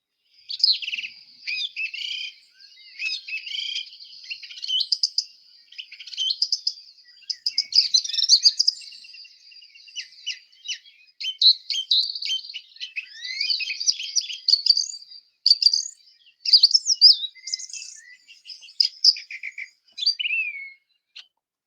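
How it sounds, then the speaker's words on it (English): A song thrush sings alone in a long run of bright, varied whistled and chirping phrases separated by short pauses, clear and fairly close against a quiet background. "Here it is, song thrush."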